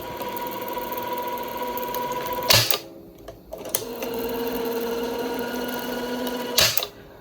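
A Unisound cassette amplifier's tape deck mechanism whirs steadily in fast forward, a close continuous motorized hum broken by two sharp clunks of the transport keys a few seconds apart.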